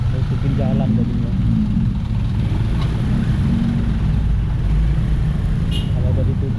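Steady low rumble of congested road traffic in Bali's Kampung Bule area, where a stopped box truck blocks the right side of the road; engines idle and creep along while someone talks over it.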